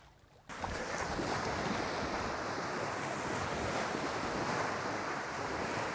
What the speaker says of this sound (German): Jetzt kommen die Wellen.